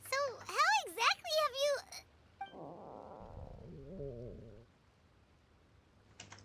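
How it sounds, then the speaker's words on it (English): Stomach growling in Genshin Impact, a low gurgling rumble mid-clip following a burst of high-pitched voices, then quiet. "That would be my stomach growling."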